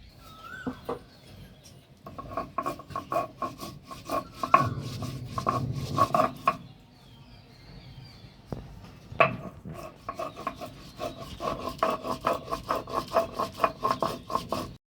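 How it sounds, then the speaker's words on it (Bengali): Mustard spice paste ground by hand on a flat grinding stone, repeated gritty rubbing and scraping strokes in uneven bursts with brief pauses, close and fairly quiet, with a few faint bird calls in the background. "মশলা বাটা হয়ে গেছে, বেটে নিয়েছে মা"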